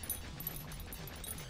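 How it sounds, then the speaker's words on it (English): A pet dog whimpers and makes soft yipping noises in short, closely spaced bursts, fairly quiet and near, over a low background hum. "You are not gonna quit, are you, dog?"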